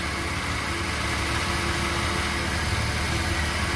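Engine of a 2000 Porsche Boxster 2.7 idling steadily with a continuous whine and hum from the serpentine belt area, close and even throughout with no talking.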